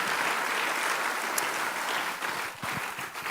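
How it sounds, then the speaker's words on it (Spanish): A church congregation claps together in sustained, dense applause during a Spanish-language service, steady and full before tapering slightly near the end. "Vamos a darle el aplauso a los hermanos que están en sintonía."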